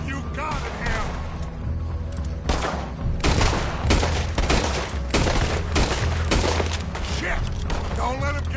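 Rapid bursts of gunfire from a PS4 shooter game, dense crackling volleys and booms repeating through the whole stretch, loud and close, mixed with in-game voices talking.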